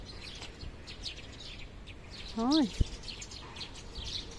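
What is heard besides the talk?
birds singing outdoors between houses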